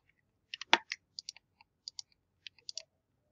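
Computer mouse clicks while working through a personality-type software tutorial: a quick scatter of small, dry, close clicks, some in rapid pairs, quiet and with no talking.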